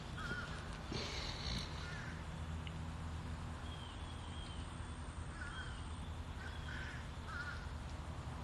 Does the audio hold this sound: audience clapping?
no